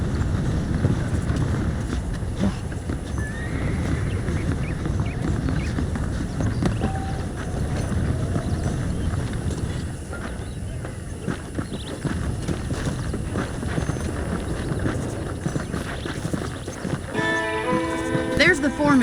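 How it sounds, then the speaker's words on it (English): Horse hooves clip-clop steadily in the Wild West video game Red Dead Redemption, a moderate rhythmic patter running under a voice and ambient game sound throughout. "The horses are saddled up over here."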